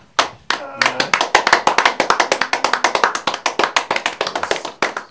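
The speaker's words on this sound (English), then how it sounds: "May we give them a very big round of applause. And a standing ovation." Hands clap close and loud in a quick, distinct, fairly regular patter at a Nigerian media delegation gathering for the Tokyo Paralympics, each clap sharply separated rather than blended into a wash.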